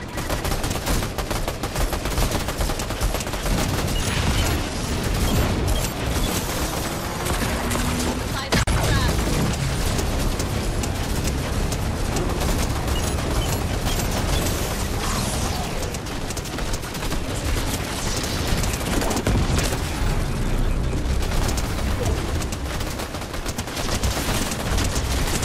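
Dense, loud automatic gunfire in the Fortnite Doctor Doom boss fight event, near-continuous bursts and impacts filling the whole stretch with a packed game soundscape.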